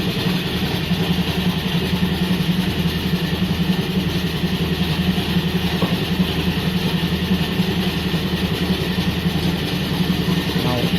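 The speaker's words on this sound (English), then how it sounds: "Engine is still running." A car's engine idles while the car sits raised on a jack and ramp during an oil service, a steady low rumbling hum that stays even and fairly loud throughout, with no talking.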